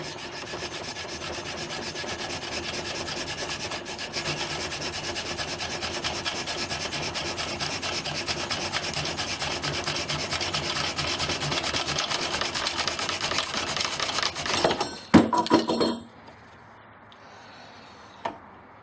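Hand drill friction fire: a wooden spindle spun hard against a wooden hearth board, giving a steady, close, dense rubbing and grinding that runs for about fifteen seconds, then breaks off in a few clattering knocks and falls quiet.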